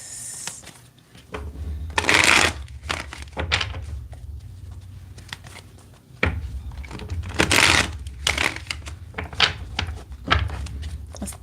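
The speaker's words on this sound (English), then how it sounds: "Let's get two more good shuffles here." A deck of tarot cards being shuffled in two bursts of riffling and flicking, each a loud crisp rush lasting about a second, separated by quieter handling noises and thumps.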